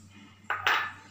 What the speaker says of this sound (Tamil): இப்போது வெங்காயம் போட்டுக்கலாம்